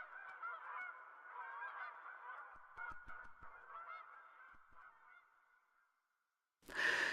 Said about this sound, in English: birds in the sky, aligning into a V,